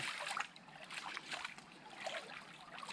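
A bag is dipped and pushed about in a stream to fill it with water, giving faint close trickling and gurgling splashes in uneven bursts against the soft flow of the stream.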